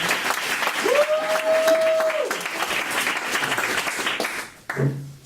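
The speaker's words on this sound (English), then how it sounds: "One big round of applause for all of them." Audience at an improv comedy show applauding the performers, a sustained crowd clap with a whoop or cheer rising over it, fading toward the end.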